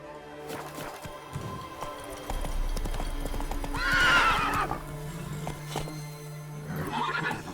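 Roach, the horse in The Witcher 3: Wild Hunt, gallops with steady clip-clopping hooves and gives a loud, close whinny midway, with a second fainter neigh near the end, set over a low game music bed.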